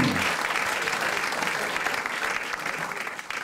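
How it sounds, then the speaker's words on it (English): Steady audience applause for a performer named Henry at a canine magic show, a dense wash of clapping hands sustained evenly throughout without any talk over it. "A round of applause for Henry."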